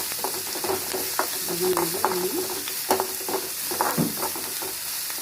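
Onions with salt sauté in a pan for kuzhi paniyaram batter, a soft steady sizzle broken by repeated scrapes and clinks of a spatula stirring close by.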